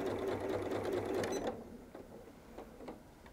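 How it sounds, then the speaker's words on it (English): A sewing machine stitches a Christmas stocking, a quick close mechanical whirr for about a second and a half, followed by a few faint clicks and handling sounds. "As you come up to the end, just remember to backstitch several stitches."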